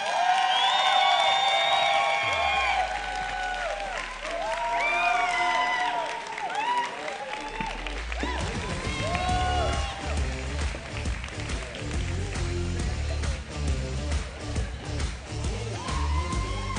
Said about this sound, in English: please give me a massive round of applause for Pani van die Kerk.